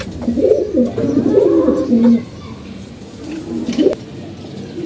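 Pigeons kept in a home loft give low, rounded coos close by, a few overlapping calls in the first half followed by softer cooing, with steady background hiss and no talking.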